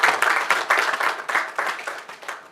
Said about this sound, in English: A round of applause once again for Tank Palace Hotel